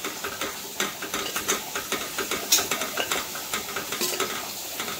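Chopped onions sizzle in hot oil while a spoon stirs and scrapes the pan in quick, regular strokes, close up, for prawn biryani, with a soft hiss underneath and no talking.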